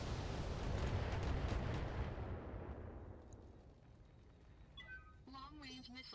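A long-range missile salvo (LRM 20) firing in Battletech: a loud rushing, rumbling barrage for about two seconds that trails off into a long fading roar, after which a voice speaks briefly.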